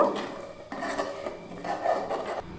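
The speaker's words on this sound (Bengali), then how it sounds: "খুব ভালো করে মিশিয়ে নেব" Sugar being stirred into Basanti payesh in a pot, with rice and sugar together, gives a continuous close scraping and clinking of a utensil against the pot in uneven strokes, with no talk.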